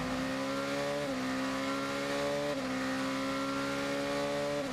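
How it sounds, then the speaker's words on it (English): Engine of the #22 United Autosports race car at the 2020 Lone Star Le Mans FIA WEC race, a loud steady drone that shifts pitch in stepped upshifts, continuous and close with no talk. "Just a little bit of enjoyment of the noise of the 22 United Autosports car."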